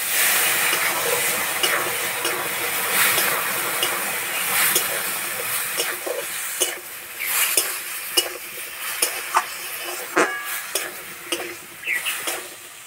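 Ground turmeric, cumin and chili powder fry in a pan with a splash of water while greens cook, giving a steady close sizzle broken by repeated clinks and scrapes of a stirring spoon against the metal.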